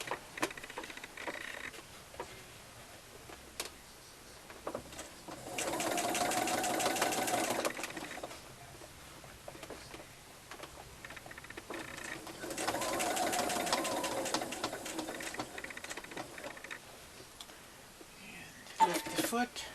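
A sewing machine stitches a face mask seam in two separate, moderately loud runs of rapid stitching, with quieter handling noises between them.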